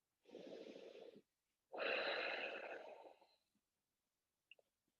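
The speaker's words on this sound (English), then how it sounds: "Take a breath." A deep breath taken during a gentle yoga twist, one quiet inhale followed by a longer, slightly rough exhale, close and soft, then a few faint clicks in the silence after.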